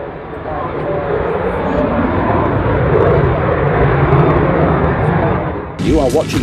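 An aircraft at an airshow powers up and takes off for its display, a loud, steady broadband engine roar that holds throughout before easing near the end, where a voice briefly cuts in.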